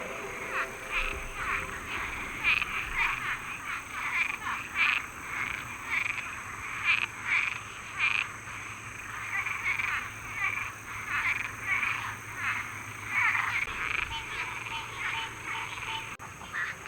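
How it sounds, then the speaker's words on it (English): Many frogs of different kinds croak and call together in a Florida wetland along a hiking trail, a dense, pulsing chorus that carries on without a break, with scattered duck-like quacks mixed in. "I've never heard so many different types of frogs and noises"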